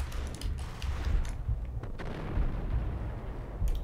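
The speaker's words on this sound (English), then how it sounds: "Are their bullets even reaching me, or are they just shooting into the wood?" Enemy gunfire in the Max Payne video game thuds into wood, a steady barrage of rough bursts and impacts layered densely with no clear gaps.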